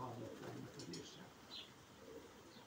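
Pigeons cooing faintly while bathing, soft low coos alongside a few light splashes and flutters in a quiet setting.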